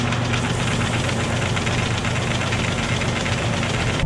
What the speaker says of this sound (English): That auger is gonna slip a little bit with that belt there before it actually starts going.